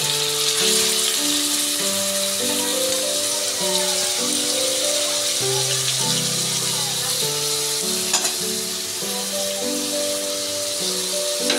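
Grated carrot frying in hot oil with ginger, a steady loud sizzle with stirring and scraping close up, under background music.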